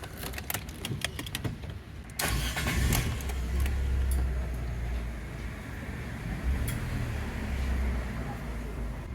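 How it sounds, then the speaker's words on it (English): A car engine starting and settling into an idle after a MAP sensor is cleaned and reinstalled. A few sharp clicks come first, then the engine catches and holds a steady, low, moderately loud idle. "let's start the engine"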